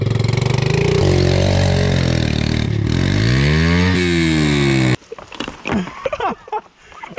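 A quad ATV's engine runs loud and close, idling and then revving with rising and falling pitch, before cutting off abruptly; afterward only quieter rustling and handling noises remain.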